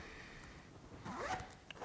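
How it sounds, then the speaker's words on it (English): A Gearwrench heated jacket's pocket zipper is pulled closed in one quick rising sweep, close up and fairly clear against a quiet background. "put it in the zipper"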